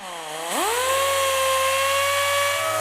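A power sander works a car headlight lens with 3000-grit sandpaper, spinning up from a low hum into a steady, high-pitched motor whine that holds level and close for several seconds.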